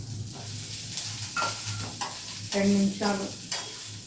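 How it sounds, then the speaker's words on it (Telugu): Mung beans fry and get stirred in a pan for a breakfast dish, with a steady close sizzle and scraping stirs that come in waves. A brief voice is heard. "ఇప్పుడు పెసర్లు అండి, ఈ పెసర్లు వేసేస్తున్నానండి."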